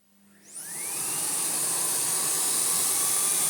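Restored Miele Blizzard vacuum cleaner with a Turbo Tech head powering up from a low hum into a loud, steady, rushing whine that holds constant to the end.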